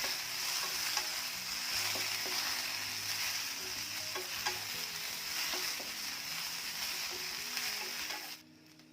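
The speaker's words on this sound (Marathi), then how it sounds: "भेंडी छान आधी भाजून घेऊया हळूहळू रंग बदलत आहे" Okra pieces roast and fry in an oil-coated pan, a steady dense sizzle with occasional stirring scrapes and soft taps, close by, before the sound cuts off abruptly at the end.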